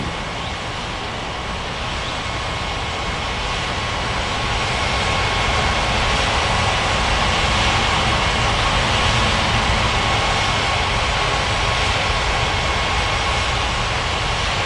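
Jet airliner taking off at Ngurah Rai Bali International in the game Unmatched Air Traffic Control, a loud, broad engine roar that builds gradually over the first several seconds and then holds steady, with a faint tonal whine running through it.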